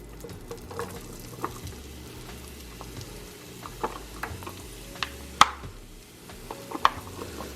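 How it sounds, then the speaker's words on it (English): Celery, carrots and onions cooking in a pan, a soft steady sizzle with scattered sharp clicks and taps of stirring, fairly quiet and close. "I'm going to add in some vegetables. And allow that to cook down."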